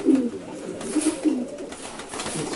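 Racing pigeons in a loft give low, throaty coos in short repeated phrases, heard close over faint background noise with no speech.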